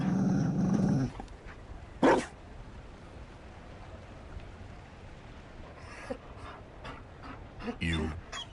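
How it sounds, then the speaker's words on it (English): A Mabari war dog in the fantasy game Dragon Age Inquisition pants heavily with rough growling for about a second up front, then quieter scattered breathy bursts follow over a faint background, with voices present. "You found a dog?"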